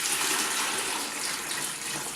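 Water poured steadily into the reservoir of a NewAir AI-250W portable ice maker, a continuous close gushing splash that runs unbroken with no talk.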